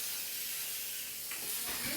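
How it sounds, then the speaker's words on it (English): Cooking spray hisses from a can in a short airy burst toward the end while a cake is being baked, following a steady background hiss. "what's some spray going on there?"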